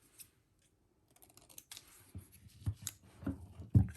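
Paper is trimmed with scissors while making a sewing pattern paper ephemera holder: faint quiet snips and rustles, irregular and close, building to a few sharper cuts near the end, with no talk.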